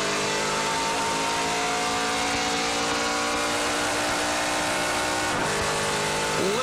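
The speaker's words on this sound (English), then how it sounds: "Listen to that Mopar power under the hood of Andrew Ranger." Dodge Mopar NASCAR Pinty's Series stock car engine racing on track at the Clarington 200, a loud, sustained roar with other cars' engines blending in, continuous throughout.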